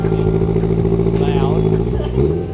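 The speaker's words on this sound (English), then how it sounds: "Come on, please be the right exhaust. Okay, it's loud." A Toyota GR86 idles with a deep, throaty, bassy exhaust rumble and rises briefly in a rev near the end, loud and close.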